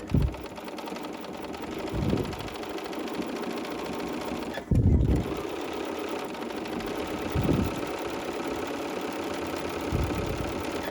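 A sewing machine fitted with a 20D foot stitches with black 50-weight Aurifil thread, whirring steadily at close range, with brief louder bursts and bumps when the stitching speed changes.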